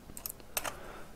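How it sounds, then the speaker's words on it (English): Quick, quiet clicks from a computer keyboard as Control+C and Control+V shortcuts are pressed, a few soft key taps in two short clusters. "I'm using Control plus C and Control plus V if you're wondering how I'm copying and pasting so quickly"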